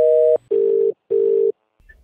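A telephone line beeps after the call is hung up: a short higher tone, then two long, even, loud tones separated by brief gaps, with a faint low noise at the end.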